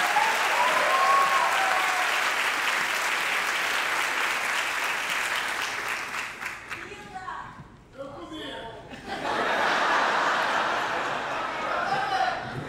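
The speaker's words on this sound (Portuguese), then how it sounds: "uma salva de palmas pra Cris Paiva" Sustained applause from a comedy roast audience rolls on loudly, dips briefly in the middle, then swells back up to the end.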